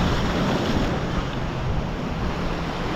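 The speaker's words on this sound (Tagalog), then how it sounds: "Malakas ang alon eh." Strong sea waves surging against a fishing boat, a loud, steady roar of churning water and wind that fills the whole moment without a break.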